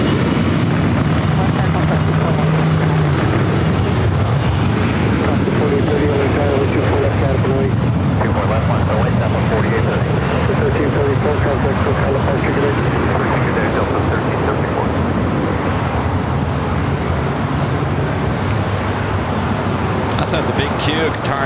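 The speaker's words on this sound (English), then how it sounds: "Next takeoff is Alaska Horizon 2254, taking off to San Jose on the E175." An Alaska Horizon Embraer E175 jet taking off for San Jose, a loud, sustained broadband engine roar that holds steady throughout the clip without any speech.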